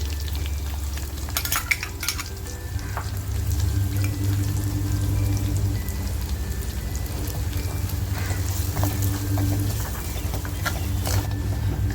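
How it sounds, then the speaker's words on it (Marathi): Finely chopped onion fries on a low gas flame in a clay pot, giving a steady, close sizzle with occasional stirring scrapes that continues without pause. "कांदा आहे ना आपल्याला सोनेरी होईपर्यंत फ्राय करून घ्यायचा आहे"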